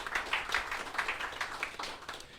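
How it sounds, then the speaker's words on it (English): Soft, fairly distant applause from a lecture audience thanking sponsors, a loose patter of overlapping claps that holds steady throughout. "So big round of applause right there"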